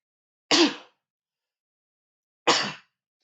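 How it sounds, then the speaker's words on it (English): Two sharp sneezes, about two seconds apart, each a sudden burst that fades quickly, with silence around them. "Did not mean to sneeze."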